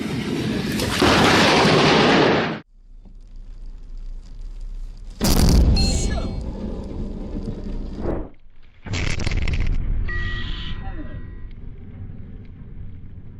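Thunder from lightning strikes during a Florida thunderstorm: a loud close crack and rumble, then a second booming burst and a third rolling clap, separated by quieter stretches of rain-like noise.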